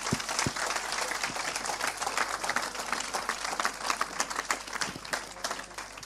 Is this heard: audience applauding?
yes